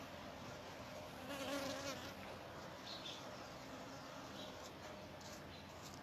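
A faint, steady buzz of bees around dragon fruit flowers in an urban farm in Nairobi, Kenya, humming through quiet outdoor background noise, with no voices.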